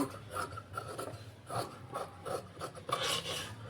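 Scissors cut away extra pieces of silk saree fabric while an umbrella frock is being stitched, giving close, intermittent rasping snips and slides across about four seconds with no talking.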